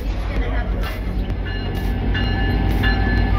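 A Grand Canyon Railway tourist train running between Williams, Arizona, and the canyon gives a steady, close rumble of rolling wheels and rail noise, with faint voices over it.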